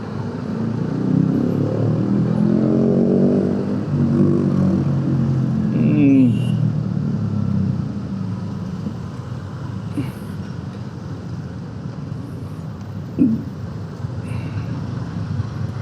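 Congested street traffic in Jatinegara, Jakarta, heard from a motorcycle: a continuous low engine drone with passing vehicles, loudest at first, then a steadier rumble broken by a few short sharp sounds.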